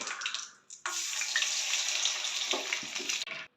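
Chicken legs frying in hot oil, a loud bubbling, hissing rush that cuts out briefly, then surges back steadily with small crackles before stopping abruptly.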